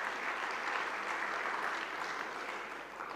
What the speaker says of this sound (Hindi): पहले हम जोरदार तालियां हमारी दीदी जी के लिए।